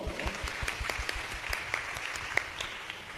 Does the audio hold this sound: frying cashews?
no